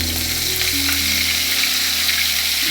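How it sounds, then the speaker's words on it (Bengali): Nigella seeds with poppy seed and green chili paste frying in hot oil, a steady close sizzle with soft crackles running throughout, alone with no talk. "তেলটা একটু গরম হয়ে এসছে, আমি কালো জিরে ফোড়ন দিয়ে দিলাম, আর দিয়ে দেব এই পোস্ত আর কাঁচা লঙ্কার পেস্টটা।"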